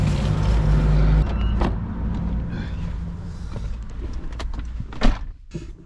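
Someone gets into a car in cold weather: a door clunk, rustling and shifting, then the brief whir of power windows and another door thump, close and loud, with no clear talk.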